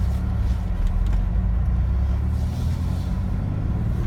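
A car's engine rumbles low and steady from inside the cabin on a test drive, a constant, fairly loud drone with no distinct revs or gear changes.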